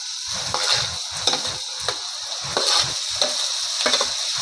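Roasted eggplant oolo mixture stirred in a hot pan, a steady bright sizzle with rhythmic scraping strokes of the spoon repeating about twice a second, close and loud with no talking.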